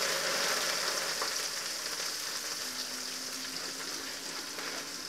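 Chhotokuli greens fry in hot oil, a dense, continuous crackling sizzle heard close up, loud at first and easing slightly as it goes on, with no talking.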